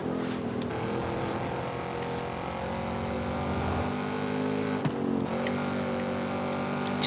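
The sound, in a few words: car engine in video game Forza Horizon 5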